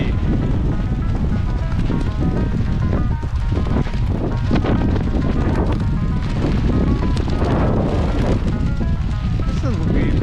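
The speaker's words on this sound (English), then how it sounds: "This is a bit windy." Strong wind buffeting the microphone at a World's Toughest Mudder 24-hour race camp, a loud continuous roaring gust noise with rumbling low buffets throughout.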